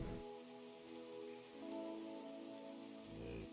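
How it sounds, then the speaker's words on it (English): Steady rain from the video game RimWorld hisses softly and continuously beneath sustained in-game background music. "The rain is actually interfering with our probability of hitting."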